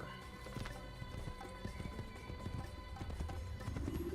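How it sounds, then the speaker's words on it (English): A horse galloping in Assassin's Creed, rapid clip-clopping hoofbeats in a continuous rhythm with a brief whinny, heard close and fairly quiet with no voices over it. "You want to ride your horse at a reasonable speed?"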